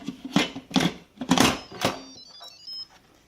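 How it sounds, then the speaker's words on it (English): Several sharp clunks and clicks come in quick succession as an Instant Pot pressure cooker lid is handled and locked, followed by a few faint electronic beeps. "Now we'll put the lid on"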